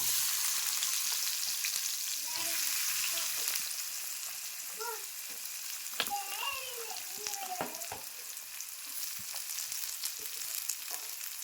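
Tempering seeds and onions frying in hot oil for a spinach and sorrel leaf curry, a continuous sizzle with scattered stirring clatter and brief faint voices in the background.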